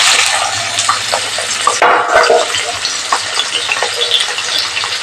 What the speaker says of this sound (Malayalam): ഇവിടെ ഞാൻ സൺഫ്ലവർ ഓയിൽ ഒഴിച്ചിട്ടുണ്ട് നമുക്ക് സവോള ആദ്യം മുരിച്ചെടുക്കാം